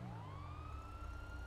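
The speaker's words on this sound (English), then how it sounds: "I hear sirens." Police sirens in the video game GTA 5, a rising wail sweeping upward over a low rumble, moderately loud and alone.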